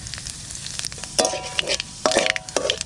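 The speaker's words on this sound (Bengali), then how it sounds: "কড়াইতে তেল দিয়ে দিছি এবার জিরে আর তেজপাতা দিয়ে দিচ্ছি" Cumin seeds and bay leaf frying in hot oil in a wok, a steady sizzle with bursts of louder crackling and spatula scrapes, no voices.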